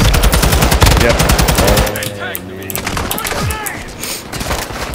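Rapid automatic gunfire in a video game crackles loudly in bursts for about two seconds, then gives way to quieter game ambience with scattered distant shots and faint voices.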